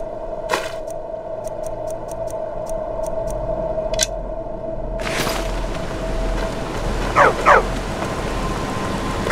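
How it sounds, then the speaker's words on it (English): A dog barks in Skyrim: a short burst of two or three yaps near the end, above steady game ambience with sharp clicks and a rushing swell midway. "Stupid dog."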